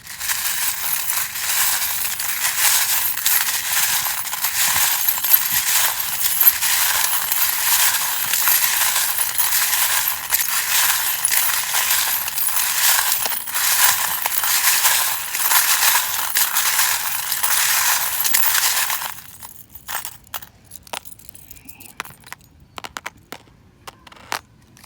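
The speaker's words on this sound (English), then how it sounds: "if you don't like the sound of the charms, please do turn down the volume now, because I'm going to start shuffling and they can be quite loud" Tarot charms and dice rattle and clatter loudly and continuously for about nineteen seconds, then give way to a few sparse clicks and taps.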